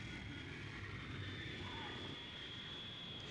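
A C-141 military transport aircraft lands during a spot landing contest on a main runway, its engines giving a steady, broad roar that holds constant throughout.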